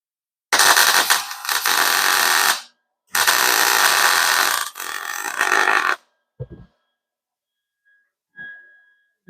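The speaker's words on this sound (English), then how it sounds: "Keep welding." Loud, harsh crackling buzz from welding on a car body, two long sustained bursts of a few seconds each, then quiet with a few faint clicks and knocks.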